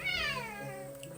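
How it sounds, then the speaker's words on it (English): A grumpy cat lets out a single long, drawn-out meow with a falling, wavering pitch, close and fairly loud, tailing off at the end. "That was the weirdest, longest meow."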